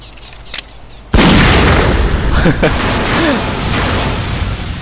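A loud, sudden explosion in the video game Postal 2 bursts in after a quieter stretch, followed by a heavy rumbling tail and scattered debris pops, with someone talking over it.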